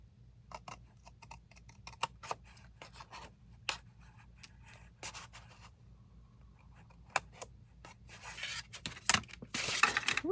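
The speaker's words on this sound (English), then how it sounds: "I'm going to trim off just this little" Scissors trim a small edge off a pink paper folio, giving scattered short snips and rustling paper handling at close range, with a louder burst of rubbing and paper movement near the end.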